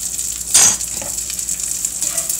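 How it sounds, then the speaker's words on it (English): Bacon sizzling and frying in a pan while being stirred, a steady crackle with a brief louder scrape near the start, no talking. "we're going to start stirring our bacon"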